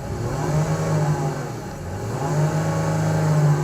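A 2024 Lexus LS500h hybrid idles with a deep, steady exhaust rumble, swelling slightly louder in the second half with a low, smooth tone and no talking.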